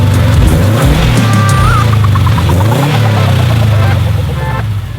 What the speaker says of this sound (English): This is my 2008 Subaru STi